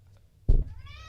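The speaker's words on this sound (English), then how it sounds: "One of the cats just yelled so loud." A cat lets out one loud, sudden yell, close by and short, trailing into a fading whine against a quiet room.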